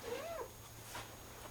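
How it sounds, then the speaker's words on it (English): A shop cat meows once, a short rising-falling call near the start, then ambient room noise with a faint low hum follows in a woodworking shop. "Shop cat."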